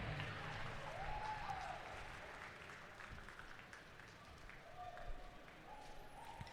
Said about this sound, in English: make a nice warm round of applause for your top 8 finishers